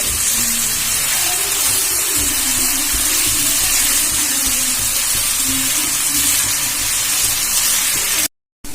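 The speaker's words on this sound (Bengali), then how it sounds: "প্রথমে আলুটা ভেজে নেব।" Potatoes fry in hot oil in a pan, giving a steady loud hissing sizzle with crackles that runs almost without pause before a brief silent gap near the end.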